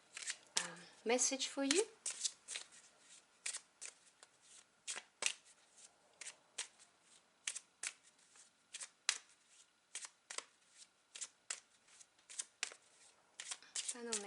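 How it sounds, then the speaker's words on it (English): Tarot cards being shuffled by hand in repeated quick riffles and slaps, close and crisp with irregular rhythm throughout, while a voice speaks briefly near the start. "So let me just get a final card for you."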